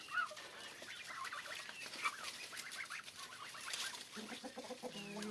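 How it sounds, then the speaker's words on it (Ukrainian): A farmyard rooster clucks softly among hens, geese and turkeys eating corn leaves, giving a quiet, irregular run of short clucks and calls at moderate distance. "Півник наш."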